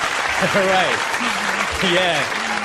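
Applause from a live audience fills the whole stretch as a steady wash of clapping, with a voice rising and falling over it in two short bursts.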